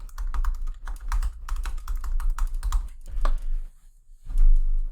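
Fast typing on a computer keyboard, close and crisp, with a quick irregular run of key clicks and a short pause before the tapping resumes.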